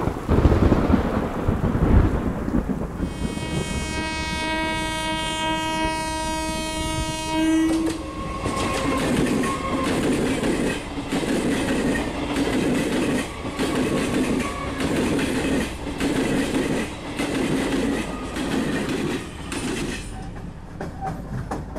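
A passenger train leaving Howrah sounds a long, loud horn blast, then rolls on with a steady, rhythmic clatter of wheels over rail joints close by.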